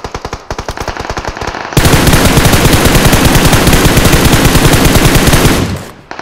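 Rapid automatic gunfire from a firearm in PUBG Mobile on the Erangel map, a fast steady rattle of shots that starts lighter, then swells into a dense, loud sustained burst before cutting off near the end.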